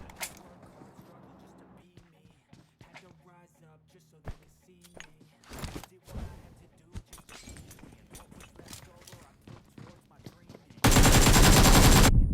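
Gunfire in PUBG Mobile, scattered single shots and short bursts, loud and close, with someone talking throughout, ending in a harsh blast of noise.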